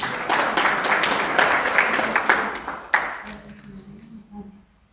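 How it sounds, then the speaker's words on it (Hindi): A congregation at a Bible lesson claps loudly for a member, dense applause that carries on for about three seconds and then breaks off, leaving a quiet tail with a faint voice. "जोर से ताली बजाएंगे"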